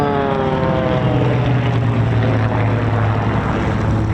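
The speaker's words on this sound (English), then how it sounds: "Patrick in the Yak 50, Philip in the Extrema XA42." Yak 50 and Extrema XA42 aerobatic planes flying high-powered aerobatics at an airshow, a loud, steady propeller-engine drone with a strong sustained low tone, near and continuous without talk.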